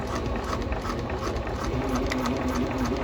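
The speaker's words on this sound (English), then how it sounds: "I want to be sewing 1/4 inch from the edge of the shorter piece" A domestic sewing machine runs steadily as it stitches the lining of a tote bag, a close, continuous whirring hum with a rising motor tone toward the end and no talking.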